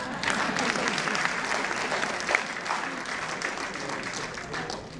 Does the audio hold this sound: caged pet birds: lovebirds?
no